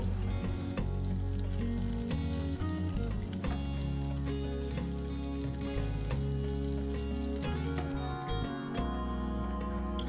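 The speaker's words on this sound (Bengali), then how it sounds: "পেঁয়াজ কুচি দেওয়ার পরে আমি 1 মিনিট ভাজবো" Chopped onion frying in hot oil with garlic and ginger for chilli paneer, a steady loud sizzle and crackle that runs continuously throughout with faint stirring ticks and no talking.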